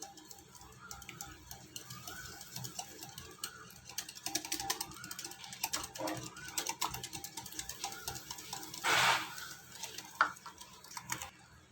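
A spoon clicks and taps against a bowl while egg and sugar are mixed, quiet irregular scraping and ticking strokes close by, with one brief louder scrape near the end.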